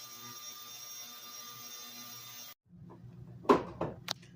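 A Creworks 2 liter ultrasonic cleaning machine runs with a steady, tonal electric hum that cuts off abruptly. A few sharp knocks and handling sounds follow in the quiet.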